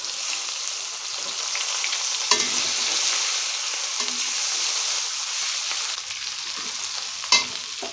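Onions frying with whole cumin, garam masala and bay leaves in hot oil for a Bengali egg curry, a steady close sizzle throughout with a few sharp stirring scrapes.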